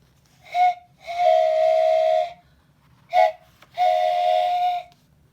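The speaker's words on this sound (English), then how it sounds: "a train whistle blew, long and low, like a sad, sad song." A train whistle blows four times, two short toots each followed by a long, steady blast, clear and fairly close with nothing else around.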